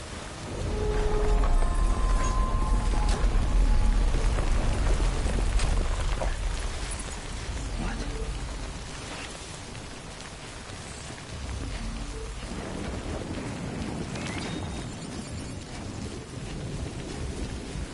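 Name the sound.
timefall rain and thunder in video game Death Stranding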